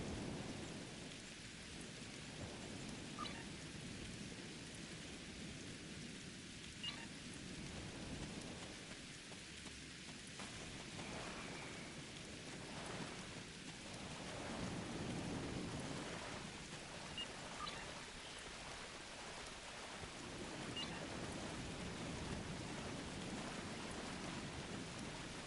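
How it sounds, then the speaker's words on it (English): Steady rain with rolling thunder on the planet Ryza in the video game Star Trek Endurance, a continuous close downpour with low rumbles swelling every few seconds, no voices. "Wow, rain on Ryza."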